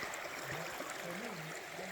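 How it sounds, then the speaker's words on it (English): Steady rushing of a flowing creek fills the background, with a faint murmur of voices partly buried underneath. "got this beautiful creek"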